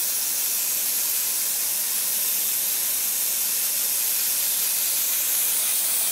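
An airbrush sprays paint at low pressure onto a Hasegawa 1:72 MiG-29 Fulcrum model kit, producing a steady, continuous airy hiss that stays loud and even throughout, with no talking.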